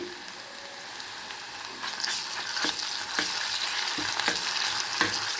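Onions and ginger garlic paste frying in oil in a kadai, a soft sizzle that grows louder, with rhythmic spoon scrapes and clinks as the mixture is stirred, no talking.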